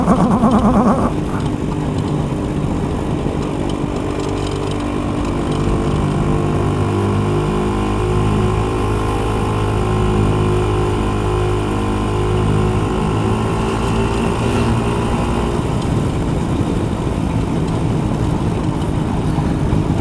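Four big V-twin motorcycles roar past, their deep engine rumble swelling and holding steady for most of the stretch before fading, loud over wind noise.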